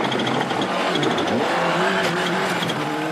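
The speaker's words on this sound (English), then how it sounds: "With its anti-turbo lag system chattering happily, the Malcolm Wilson prepared Escort Cosworth was a full minute ahead of its nearest challenger" A Malcolm Wilson-prepared Ford Escort Cosworth rally car on a forest stage in north Wales, its anti-lag turbo system chattering as the engine revs hard and steadily, loud and close for a few seconds with no talk.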